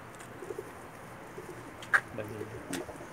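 Soft coos from Pakistani pigeons on a rooftop in Jeddah, Saudi Arabia, sound quietly over a low background hum, with a couple of faint bird calls breaking in briefly.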